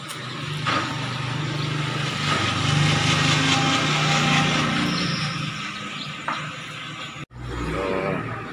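A new engine for a kuliglig hand tractor on a test run, a loud, steady, buzzing small-engine drone that runs continuously, briefly cuts out near the end and then resumes.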